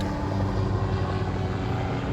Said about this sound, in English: a toy helicopter.